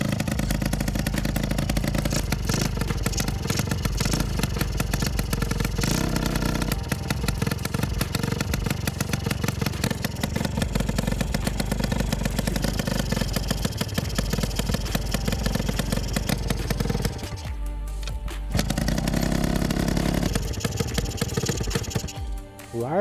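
An Adly scooter engine idles after a kick start, with a steady, close, rattling motorcycle-like putter and a brief dip where it nearly stumbles before settling back to idle.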